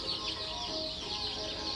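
Chickens clucking quietly nearby in a farm setting, soft, scattered calls under faint background noise.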